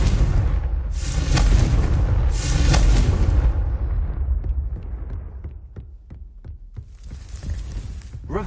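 A Confringo fire spell in Hogwarts Legacy sets off loud, booming game explosions with a long rumbling roar, then a string of sharper impacts before another blast swells at the end; no talk.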